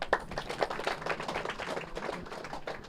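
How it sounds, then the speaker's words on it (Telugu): Audience clapping at a pyramid opening ceremony, a steady patter of many hands at moderate volume that carries on for the whole stretch without a break. "మన చెన్నకేశ్వర గారు గట్టి క్లాప్స్ కొడదాం"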